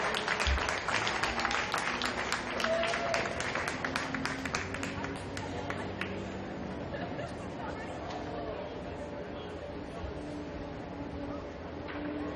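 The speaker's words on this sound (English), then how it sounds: "Let's have a nice round of applause for all these female student athletes" Applause for women's hockey student athletes at an RPI game against Cornell, a crowd clapping in a dense patter that gradually thins and fades under general arena chatter and talk.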